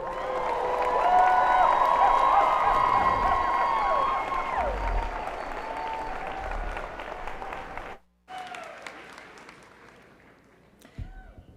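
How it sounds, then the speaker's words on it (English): Sustained applause with cheering and whoops from a large crowd honoring the 2023 graduates at a college commencement ceremony, loud for about eight seconds, then a brief break before thinner clapping resumes and fades. "Let's have one big round of applause again for the graduates of 2023"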